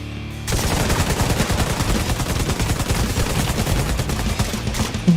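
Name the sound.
M60 light machine gun fire, Division 2 video game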